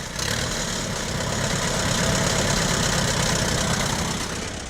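A 1955 Allis Chalmers WD-45 farm tractor idles close by, its engine giving a steady, even low rumble with a fine rapid knock that holds level throughout, with no voices over it.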